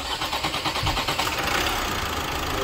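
A car engine cranks and catches, then settles into a steady idle after a new clutch kit, pressure plate and flywheel were fitted, running loud and close with a slight knock.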